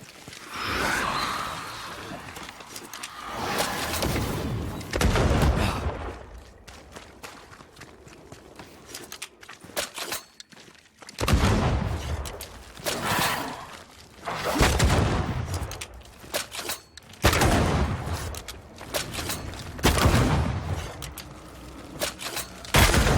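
Gunfire in the video game Banishers: Ghosts of New Eden, several loud shots and heavy impacts recurring every few seconds amid rumbling game effects, with no voices.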